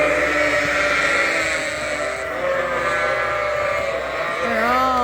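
Sheep on a farm bleat in overlapping, drawn-out calls, loud and near, with several animals crying one after another.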